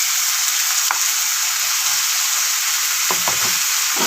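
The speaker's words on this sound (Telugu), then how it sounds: "ఇది పచ్చి వాసన పోయే వరకు ఫ్రై చేసుకోవాలా." Ginger garlic paste and onions fry for a mutton dish, a loud, dense, unbroken sizzle with a couple of soft stirring scrapes near the end.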